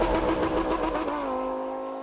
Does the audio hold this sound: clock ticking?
no